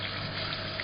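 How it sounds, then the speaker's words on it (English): Distilled alcohol runs steadily from the parrot outlet of a still, a continuous close trickling and gushing of liquid with no pauses. "The alcohol that's coming out of the parrot."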